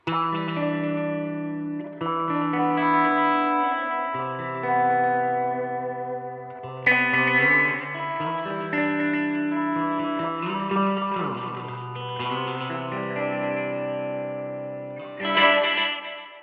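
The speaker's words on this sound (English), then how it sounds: "the next one is delay heads 2 and 3 with reverb" A sustained instrument tone sent through a BOSS RE-20 Space Echo using delay heads 2 and 3 with reverb, repeating delays and a wash of reverb, notes smearing into trailing repeats.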